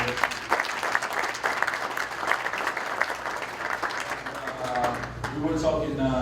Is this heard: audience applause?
yes